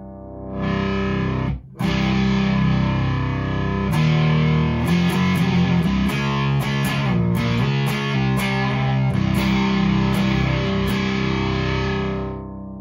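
A heavily distorted electric guitar through an Onkel Amplification Death's Head fuzz pedal plays loud, sustained fuzzy chords with a gritty growl, broken by a brief cut and quick rhythmic stabs later on.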